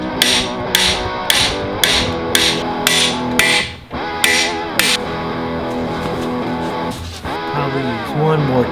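Repeated sharp hammer taps drive cam bearings into an aluminum engine block, a steady series of about eight close metallic strikes followed by a few scattered taps, with a faint voice speaking underneath.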